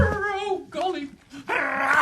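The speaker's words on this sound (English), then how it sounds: "Get off my bottom, dog!" Dog from a Tintin cartoon, Snowy, giving short yips and a high whimper, close and lively, mixed with excited voices talking over it.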